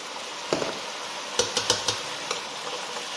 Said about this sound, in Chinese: 先拿这个勺子把它翻炒一下，倒入我们的这个白糖